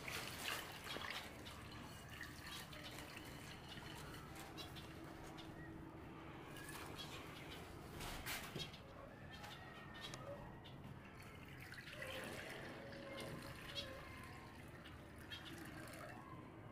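Water is poured and drips into drinking dishes for pet finches and doves in an outdoor enclosure, with scattered soft drips and trickles, faint bird calls around them, and quiet surroundings.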